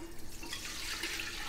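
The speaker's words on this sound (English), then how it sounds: "I want to drain my broccoli di rapa." Hot water from cooked broccoli rabe pours out of a pot into a kitchen sink, a steady nearby splashing gush that runs without a break and carries no talk.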